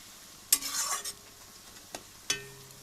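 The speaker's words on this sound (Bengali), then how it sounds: "এই যে পেঁয়াজটা দেখো লাল লাল করে আমি ভেজে নিয়েছি।" Onions fried reddish-brown in a pan, stirred with a utensil: a few scraping stirs with a soft sizzle, brief clinks at intervals, fairly quiet, no voices.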